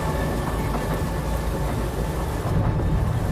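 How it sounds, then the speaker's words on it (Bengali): Heavy rain pours with a deep rolling rumble, thunder mixed with the drone of a train running through the night, loud and continuous with no voices. "ট্রেনের শব্দের সাথে পাল্লা দিয়ে বৃষ্টির শব্দ।"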